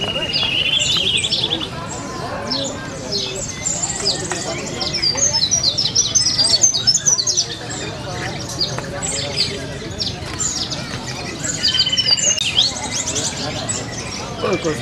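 Oriental white-eyes sing at an outdoor songbird contest in Palopo, giving thin high chirps and trilling phrases that come and go over a busy crowd murmur, with people talking throughout.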